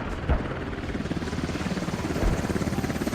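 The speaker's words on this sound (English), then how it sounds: "Come on, Blueberry, shoot at the helicopter." A helicopter in the video game Squad, heard as a steady rhythmic rotor thump that stays fairly close and loud, alone without any talk.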